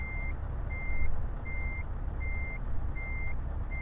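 A truck in Euro Truck Simulator sounds its reversing alarm while parking, five evenly spaced loud beeps over a steady low engine rumble.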